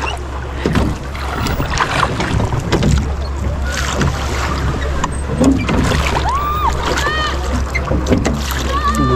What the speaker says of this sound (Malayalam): തുഴഞ്ഞ് തുഴഞ്ഞ് തുഴഞ്ഞ്